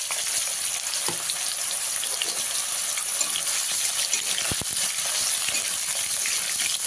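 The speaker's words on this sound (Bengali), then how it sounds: "এই তেলের মধ্যে কেটে রাখা বেগুনগুলো দিয়ে ভেজে নেবো" Cut eggplant pieces fry in hot oil for shukto, a steady dense sizzle with crackling throughout and a few brief clinks near the end, close up and without talk.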